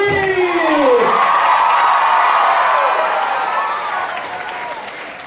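A crowd at a community bike-a-thon erupts into applause with whoops and cheers, a high voice sweeping upward at the start. The clapping stays loud before gradually tapering off toward the end.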